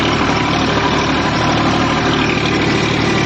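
A Massey Ferguson tractor pulls a rotavator through a field, mulching sugarcane leaves at a speed of about 15 to 16. Its engine gives a loud, steady, unbroken drone throughout, with no talking.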